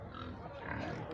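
Large pigs of 60 to 70 kilograms grunt amid the steady crowd noise of a livestock fair in Cachoeirinha, Pernambuco, with a dense, close murmur of voices throughout.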